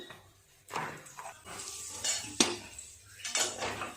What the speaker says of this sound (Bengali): এই যে সরু সরু করে আলু কেটে ভাজা করছি।